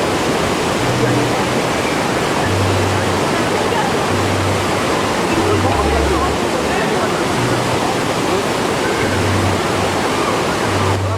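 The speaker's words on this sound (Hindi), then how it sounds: "यह जलप्रपात बहुत ऊंचाई से और ताकत के साथ गिरता है" Dudhsagar waterfall in Goa roaring as water plunges from a great height, a loud, steady broadband rush with no pause throughout, close and dominant, with low rumbling pulses beneath.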